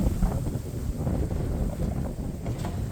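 Strong outdoor wind on a farm buffets the microphone, producing a steady, loud low rumble with uneven gusting throbs and no other clear sounds.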